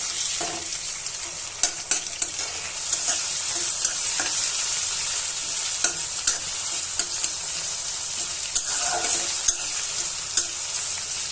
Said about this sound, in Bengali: চিংড়ি মাছগুলো দিয়ে দিব কেন তাহলে সেটা ভালোভাবে পেঁয়াজের সাথে ভাজা ভাজা হয়ে যায়